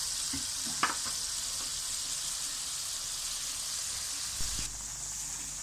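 A pot of pork curry with puffball mushrooms bubbles on the heat, giving a soft, steady hiss and sizzle with a few faint clicks and knocks. The sound is quiet and continuous, with no speech.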